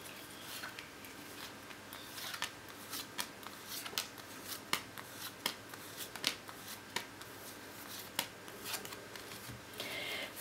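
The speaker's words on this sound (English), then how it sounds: "One more shuffle." A deck of tarot cards is shuffled by hand, giving a quiet, close series of crisp riffling snaps and flutters in an irregular rhythm, with no talk.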